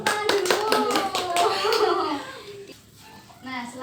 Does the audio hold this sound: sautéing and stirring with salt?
no